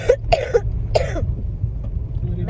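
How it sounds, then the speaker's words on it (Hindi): Several harsh, close coughs in quick succession during the first second, then a low rumbling background with no voices. "मुझे गंदी वाली खांसी हो चुकी है"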